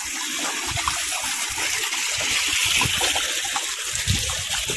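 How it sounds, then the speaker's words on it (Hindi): Water gushes from a pipeline along a mountain road, a loud, continuous rushing and splashing that stays steady and close throughout with no voices. "ये भी पानी निकल रहा है इधर से,"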